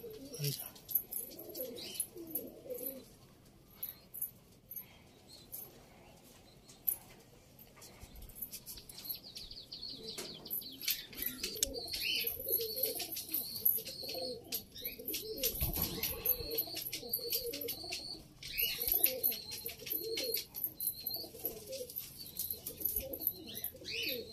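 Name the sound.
pigeons cooing in a loft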